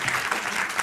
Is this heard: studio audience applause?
yes